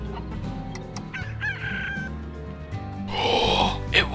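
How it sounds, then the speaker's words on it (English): A rooster crows in the Slime Rancher video game, two short crowing calls close and clear over a busy game soundtrack with small clucking sounds, and no talking. "Put a rooster on it and see what happens."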